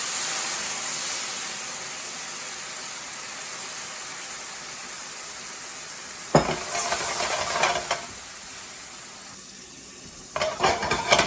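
Balsamic vinegar hits a pan of nearly cooked pineapple salmon, setting off a loud, broadband sizzle that surges after a steady quiet frying hiss, then fades and flares again with stirring, with no talking.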